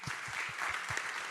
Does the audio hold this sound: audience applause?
yes